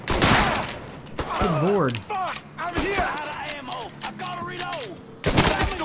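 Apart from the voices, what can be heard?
gunfire in video game Mafia 3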